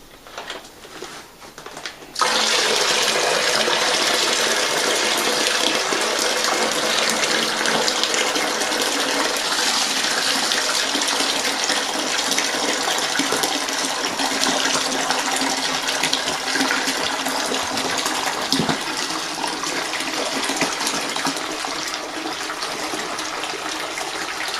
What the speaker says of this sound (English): now I'm going to lift that up and pour that in the bucket